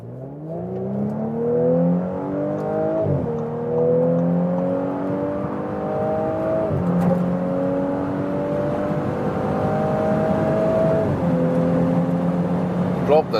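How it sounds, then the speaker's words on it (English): Audi S5 convertible with a 3-litre V6 petrol engine accelerating hard through the gears, rising engine tone broken by quick shifts at roughly three-second intervals, steady wind and road noise underneath, recorded from inside the car. "And now, as comparison, the Audi 6-cylinder petrol."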